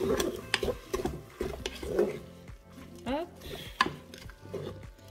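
A spoon stirs salt, pepper and spices into veal loubia in a Cookeo pot, with scraping and clinking knocks against the bowl in an irregular rhythm, close by, with a faint low sizzle underneath.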